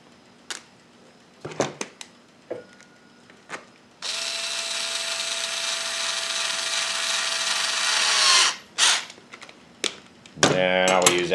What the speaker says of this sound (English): Then I will use that nut driver to tighten that one back up.